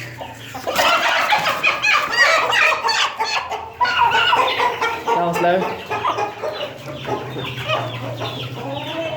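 Plymouth Rock hens and a rooster clucking and squawking close by in a pen, continuous busy bird calls under a voice talking.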